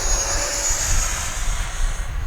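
A Freewing F-16 70mm electric ducted-fan RC jet flies past with a continuous whooshing whine, loud and fairly close, steady with slight swells and no talking.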